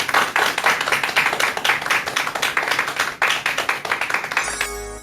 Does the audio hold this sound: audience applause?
yes